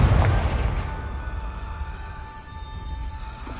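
A Confringo fire spell explodes in Hogwarts Legacy on PlayStation 5: one booming burst right at the start, then a lingering low rumble under steady tonal game ambience.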